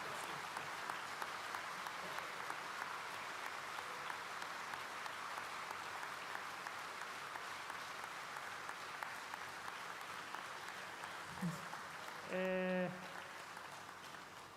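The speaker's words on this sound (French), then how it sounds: "s'il vous plaît, un applaudissement" Audience applause inside a cathedral, a steady sustained clapping heard from a distance, with a brief voice or tone rising near the end.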